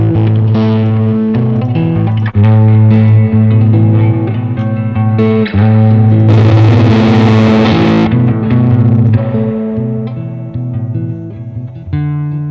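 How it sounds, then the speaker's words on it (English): Distorted electric guitar through an amp simulator plugin, playing sustained chords and notes, loud and saturated with amp-like grit and some reverb, with no other sounds. "Now all of a sudden with a guitar amp, it sounds different"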